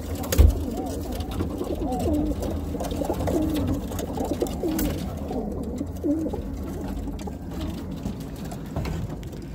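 Birmingham Roller pigeons coo steadily inside a loft, soft rolling calls repeating close by, with a sharp knock near the start and a low indoor background.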